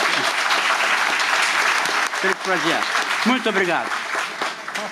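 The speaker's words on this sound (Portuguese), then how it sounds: "uma salva de palmas para Juliana aqui" Applause in a legislative committee session on health and endemic-disease agents, given for Juliana: dense clapping that thins out midway as someone speaks a brief thank-you over the fading claps.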